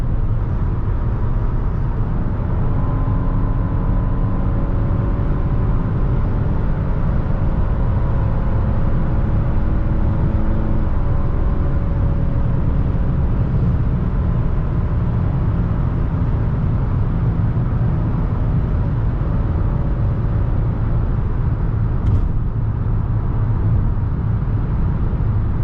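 Hyundai Palisade engine droning steadily while driving, a low, constant growly rumble with faint tonal hum layered over road noise, heard continuously from inside the cabin without talk.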